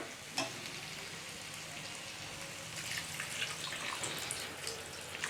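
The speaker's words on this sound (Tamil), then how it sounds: "இப்போ இதில் நம்ம தேவையான அளவுக்கு தண்ணி சேர்த்துடலாம்" Water pours into hot masala in a pan for cauliflower gravy, a loud hissing sizzle, the bubbling and frying continuing steadily up close, a brief clink near the start.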